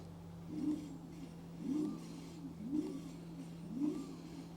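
A Kaabo Wolf King GT electric scooter motor whines faintly in four short, evenly spaced bursts over a steady low hum, each rising and falling as the throttle is applied.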